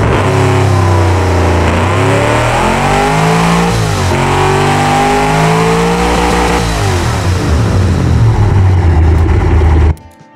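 A car engine in the Automation game revs hard with an extra carburetor fitted, a loud, continuous rising and falling roar that holds for about ten seconds before cutting off abruptly.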